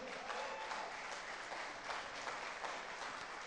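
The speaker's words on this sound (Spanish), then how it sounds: "Dale un aplauso al rey." A crowd applauds the king at a church sermon gathering: steady, dense clapping sustained evenly throughout, close and full, with no talking over it.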